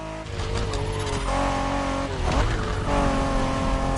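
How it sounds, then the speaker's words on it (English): A Honda NSX sports car from the 1990s races in The Crew 3 game, its engine roaring steadily at high revs with shifting pitch and a brief tire squeal, loud and continuous throughout. "The NSX isn't your regular street car."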